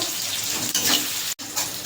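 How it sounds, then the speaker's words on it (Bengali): Onions fry in a hot pan with a loud, steady sizzle while they are stirred, broken by one brief pause partway through. "পেঁয়াজটা ভাজা হয়ে গেছে"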